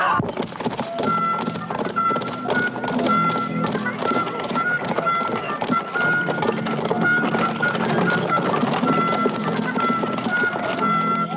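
Horse hooves clip-clop steadily over a mix of other sounds, a continuous trotting rhythm heard at moderate distance.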